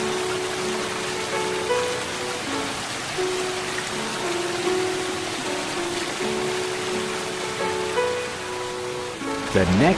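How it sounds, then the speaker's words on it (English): Rain falling all day in an animated cartoon, a steady even hiss of drops under soft music tones, continuous and moderate throughout. "Next day it rained all day."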